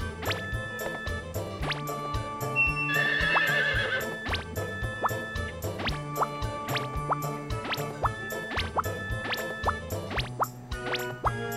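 A horse whinnies briefly in the Harvest Moon 64 farming game, over repeated plopping, dripping game effects and soft clip-clop footsteps that continue alone throughout.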